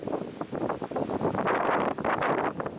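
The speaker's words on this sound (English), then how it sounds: "Just sheltering from the wind" Wind gusts across open countryside in the Lincolnshire Wolds near Croxby, buffeting the microphone with loud, uneven rushing bursts throughout.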